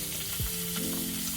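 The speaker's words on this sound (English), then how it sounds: "my lovely chicken thighs are all browned" Chicken legs frying in a pan, a steady loud sizzle and crackle of hot fat with a brief scraping movement partway through.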